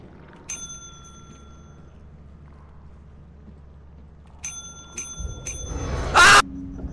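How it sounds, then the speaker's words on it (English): Bell in the video game Lethal Company rung once, then three more times in quick succession, bright ringing tones over a quiet background, followed by a sudden loud burst. "Why was I not told that I can't ring that bell multiple times?"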